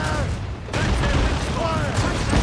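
Ship cannons fire in a broadside in Assassin's Creed Rogue, a dense rumbling barrage of overlapping booms that swells louder after the first moment. A voice is faintly present beneath the din.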